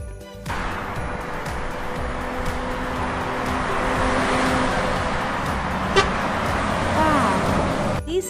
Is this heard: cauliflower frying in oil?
no